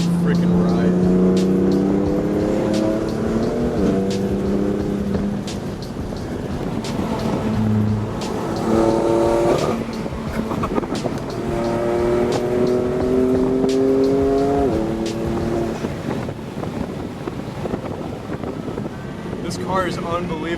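A BMW F80 M3 with a Stage 2 BM3 tune accelerates hard. Its engine note climbs repeatedly through the gears with sharp shifts between pulls, loud and close, while people talk over it.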